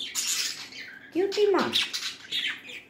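A pet budgie gives a couple of short, sharp squawks close to the microphone, interleaved with a person's affectionate talking.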